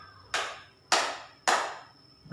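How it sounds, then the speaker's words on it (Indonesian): A class claps hands together three times in unison, each clap sharp and close with a short ringing tail, evenly spaced about half a second apart. "3 kali tepuk tangan."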